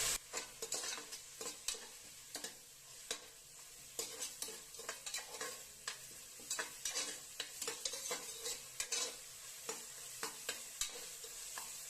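Onions sautéing with salt in a pan for green hariyali chicken, a constant sizzle under frequent scraping, clinking strokes of a spoon stirring against the metal, moderately quiet.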